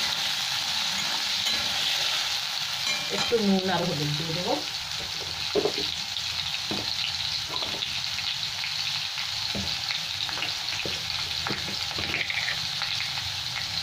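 Small diced potatoes for ghugni fry in a pan with a steady, loud sizzle and occasional stirring scrapes, while someone speaks briefly over the cooking.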